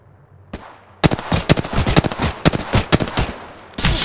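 Video game gunfire rips out in loud, rapid bursts of closely spaced shots after a single earlier crack, then pauses briefly before firing resumes.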